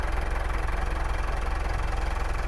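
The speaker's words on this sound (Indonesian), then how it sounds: "Suara mesin juga masih enak" A 2014 Mitsubishi Pajero Sport Dakar engine idles at a steady, continuous low rumble with an even mechanical hum, close and alone, with no speech over it.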